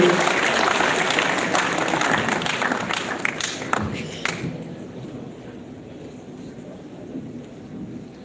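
An audience at a county scholarship award ceremony applauds a scholarship student, a dense burst of many hands clapping for about four seconds that then thins into light scattered claps and wind noise on the microphone.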